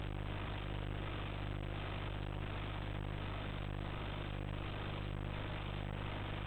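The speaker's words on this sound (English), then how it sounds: "he switches on the control circuit key, starts all 4 engines" A train's four diesel engines rumble in a steady, loud, continuous drone with a deep low hum, holding even throughout with no pauses.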